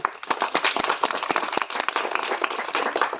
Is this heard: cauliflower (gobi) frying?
no